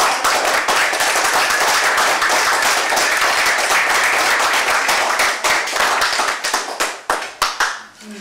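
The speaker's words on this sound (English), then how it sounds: "we should all give Tom a big round of applause" An audience gives a speaker a big round of applause at a book event, dense sustained clapping from many hands that thins into a few scattered claps and fades out near the end.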